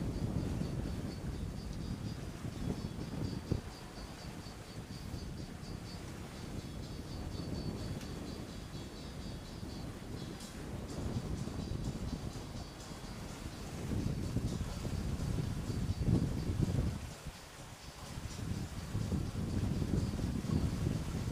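Steady wind roars across a sailboat at sea on a June passage back to Toulon, gusting stronger in bursts with broadband rushing noise, no voices.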